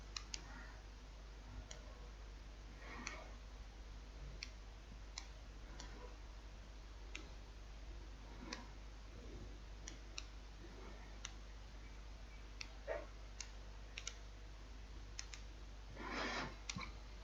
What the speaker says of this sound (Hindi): अब देखें मैं इधर से टाइप कर दूंगा।